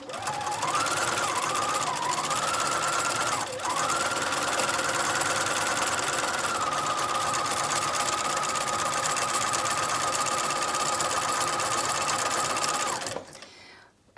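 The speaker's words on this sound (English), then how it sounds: "You set your machine, you've got your wing needle in, and you literally just start sewing." A sewing machine stitching fabric with a wing needle runs steadily and close for about thirteen seconds, with a brief hitch near the start, then stops abruptly.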